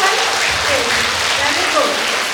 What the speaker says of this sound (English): Let us give a big round of applause for ourselves.